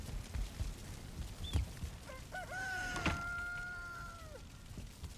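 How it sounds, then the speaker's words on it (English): Chickens in the video game Valheim, a crowing, clucking fowl call with a sustained rising tone in the middle, over a faint background of soft thumps. "if you have two happy chickens near each other, they will try to then mate and create eggs later."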